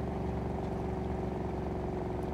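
Car engine in Cyberpunk 2077 on an immersive driving mod, cruising at a steady low hum with even harmonic tones and no revving, held constant and fairly loud throughout.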